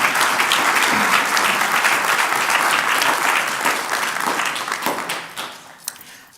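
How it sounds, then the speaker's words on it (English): Sustained applause from a school board meeting audience honoring seventh grade champions and their coaches: dense, loud clapping that holds steady, then thins and fades toward the end with a few scattered last claps. "Let's give a huge round of applause for our 7th grade 18 champions"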